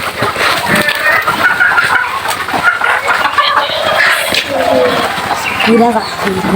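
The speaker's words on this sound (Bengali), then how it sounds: "এখানে হচ্ছে মুরগি ফার্ম" Many chickens at a village poultry farm cluck and squawk together nearby, a busy overlapping chorus of hens, with a person's voice briefly in the mix.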